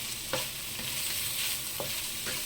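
Pork frying in a pan for adobo, a steady close sizzle with a few scrapes of stirring and no talk.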